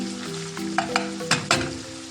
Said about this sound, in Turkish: Kıymayı 1 dakika kavurursak yeterli olacak.